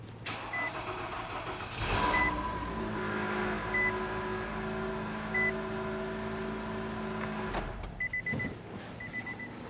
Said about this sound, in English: let's start up the vehicle and check for leaks